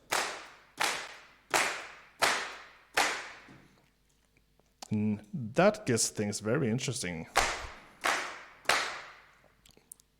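Group handclaps from a music production plugin strike in a regular rhythm, sharp and close, first alone and then returning after a stretch where someone talks over them.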